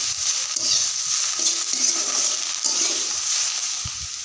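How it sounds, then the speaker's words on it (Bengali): A cooking dish of drumstick flowers being stirred in a pan, a steady scraping and gentle sizzle running continuously and close, with soft spoon knocks now and then and no voices. "নেড়ে চেড়ে ভালো করে রান্নাটা করে নিতে হবে"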